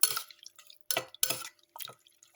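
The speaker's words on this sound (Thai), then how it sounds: "คนให้เข้าเครื่อง" Thai rice noodle salad with fish sauce and seasonings being stirred by hand, giving wet, sticky squelches and clinks in short irregular bursts, close and fairly quiet.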